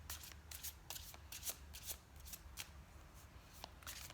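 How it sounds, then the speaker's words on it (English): Tarot cards shuffled by hand in a steady run of crisp, riffling bursts and soft slaps, close and fairly quiet with no talking. "I'll put him back in just so it can be shuffled properly."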